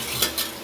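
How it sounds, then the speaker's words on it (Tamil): A spoon stirs biryani in a cooking pot, giving two soft scraping clinks over a steady low background. "நான் கிண்டுறேன், சரிங்களா? இப்படி கிண்டணும்."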